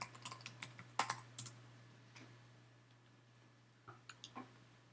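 Typing a Google search on a computer keyboard: quick clusters of crisp key clicks, a burst at the start, a gap, then a few more taps near the end, close and fairly quiet over a low steady hum.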